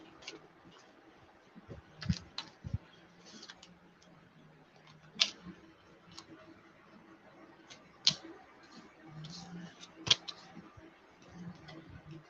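Tarot cards shuffled during a live reading, with faint scattered ticks and soft clicks and a few sharper card snaps spread across the span, quiet and close.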